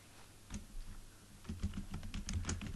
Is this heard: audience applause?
no